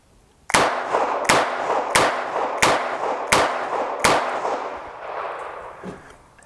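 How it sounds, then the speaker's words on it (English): Six rapid double-action shots from an EAA Windicator .38 Special revolver ring out at a range, evenly spaced sharp loud cracks roughly 0.7 seconds apart, each trailing a brief echo before the air falls quiet. "I'm gonna do 6 rapid fire double action shots, and I'm gonna go up a little bit higher"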